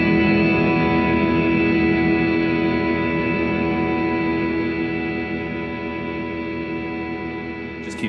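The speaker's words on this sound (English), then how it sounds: "it's got some kind of time-based effect in there, so it's delay, reverb, possibly both" A Chase Bliss MOOD pedal turning a sound into a sustained, droning wash of delay and reverb that holds steady and slowly thins toward the end, with a small click at the close.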